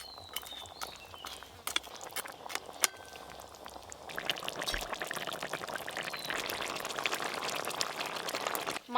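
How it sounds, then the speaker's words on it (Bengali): Fried tul fish lowered into a boiling gravy, with soft bubbling and a few taps at first, then a denser, steady simmering hiss that continues close by. "গ্রেভি খুব ভালো করে ফুটে গেছে, ভেজে রাখা তুল মাছগুলো দিয়ে দেবো।"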